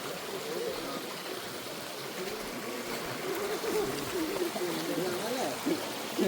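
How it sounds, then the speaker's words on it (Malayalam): A small forest stream on the traditional Sabarimala pilgrim trail flows and trickles steadily, with someone talking over the gentle, continuous water. "ചെറിയൊരു അരുവി, കാട്ടരുവിയാണ്"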